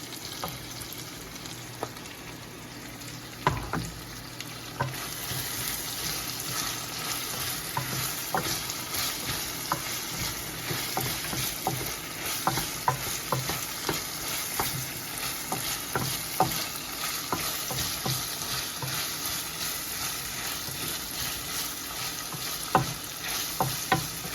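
Dried red chilies and a green chili frying in oil in a pan while tempering spices for a shark curry, a continuous close sizzle broken by frequent stirring scrapes and clicks, with no talk.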